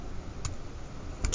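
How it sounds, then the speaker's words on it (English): A few soft key taps on a calculator, one light press followed after a pause by two quick ones, faint against steady background hiss. "If I type that in my calculator"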